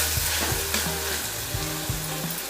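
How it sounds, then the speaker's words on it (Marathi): Tomatoes and spices sauté in oil in a pan with a loud, continuous sizzle, broken up by repeated scraping strokes of a stirring spoon, with no voices. "टोमॅटो मऊ होईपर्यंत परतवून घ्यायचा तर हे बघा छान तेल सुटलेलं आहे या सर्व साहित्याला तेल सुटेपर्यंत मस्त असं परतवून घ्यायचं"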